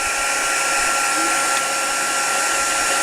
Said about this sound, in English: I'll just quickly heat set that so you guys can see